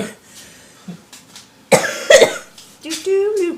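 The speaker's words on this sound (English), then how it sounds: "Sorry, I'm coughing" A couple of sharp, close coughs break out between quiet breaths, followed by a short stretch of a voice speaking.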